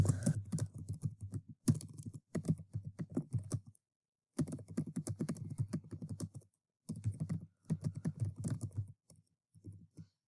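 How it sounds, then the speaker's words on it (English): Rapid keyboard typing in quick bursts, close and crisp, separated by short pauses. "start typing much like a Word document"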